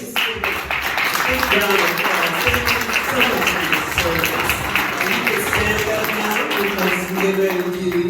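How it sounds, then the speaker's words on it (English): Audience applause honoring veterans at a Georgia State House District 39 campaign event: steady, dense clapping that fills the whole stretch, with voices mixed in. "Let's just give a big round of applause."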